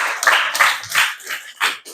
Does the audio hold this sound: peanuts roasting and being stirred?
no